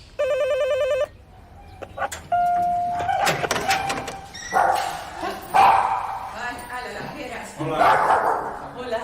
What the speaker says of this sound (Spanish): Sus 3 perros nos reciben en la puerta de casa.